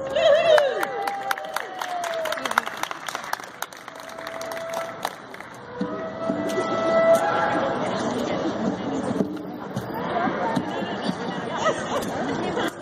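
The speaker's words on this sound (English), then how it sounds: "Please give him a round of applause" Rally crowd outside the Alabama Supreme Court in Montgomery applauding after a Navy SEAL veteran and author is introduced, with broad clapping, cheering and chatter sustained across the clip alongside overlapping talk.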